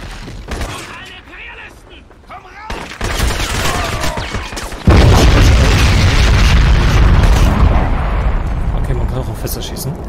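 Barrels blow up under gunfire in the first-person shooter Crysis, with loud booming blasts and a heavy rumbling explosion about halfway through, while someone talks over the game audio.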